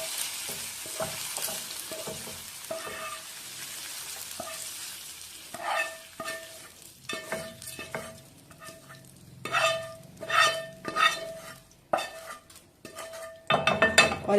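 A cooked mixture is scraped and spooned from a pan into a small bowl, with repeated metal scraping, clinks and light sizzling in uneven bursts, close up and without talking.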